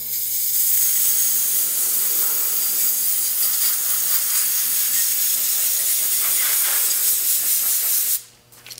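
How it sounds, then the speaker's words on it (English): Metal reactive paint solution sprayed from a spray bottle onto a woodturning: a loud continuous hiss for about eight seconds that cuts off abruptly. "I'm going to spray that."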